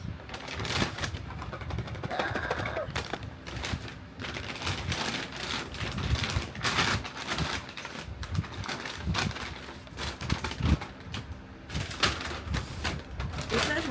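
Crinkling and tearing of plastic packaging as a Spider-Man figurine toy from a fast-food Golden menu is unwrapped, a busy stretch of close rustles and crackles, with light handling noise and no talk.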